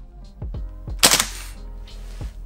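A Tavor TAR-21 gas blowback airsoft rifle firing on full auto, giving a short run of sharp, close pops with one louder, crisper blast in the middle and a final pop after a brief pause.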